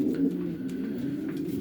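Racing pigeons cooing in a loft, a low, steady, throaty murmur of overlapping coos heard up close with no talking.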